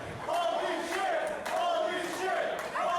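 A wrestling crowd chants in unison at a live show, its loud voices rising and falling in a repeated rhythmic call that carries across the arena.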